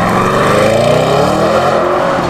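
A Lamborghini Urus engine roaring loud and close, its pitch climbing steadily as it revs hard in one continuous rising tone with no talking.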